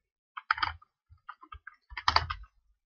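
Typing on a computer keyboard while coding a Bootstrap web page: two short bursts of close, crisp key clicks separated by a few isolated taps, quiet and alone.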